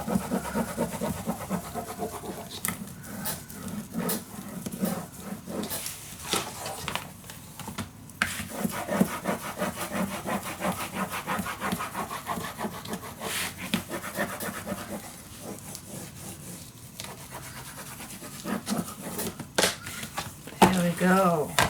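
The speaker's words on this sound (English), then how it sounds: "Let's go to the back and burnish that down." Tape being burnished down onto chipboard for a travel mini album cover, soft repeated rubbing and scraping strokes close by, with a person talking over parts of it.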